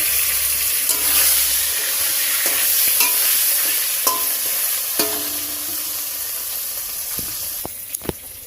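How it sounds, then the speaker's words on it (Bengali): Green bananas (kanchkola) sizzling in hot oil, a steady bright hiss close by, broken by scattered sharp clinks and scrapes of stirring that grow more frequent toward the end. "শুধু এটাতে কাঁচকলা ভাজবো"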